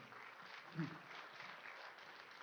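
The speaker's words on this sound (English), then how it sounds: "Nice round of applause, please, for Warren Kianto." Audience at a ten-ball pool invitational gives a round of applause for a player, a faint, steady patter of many hands clapping that carries through the whole moment.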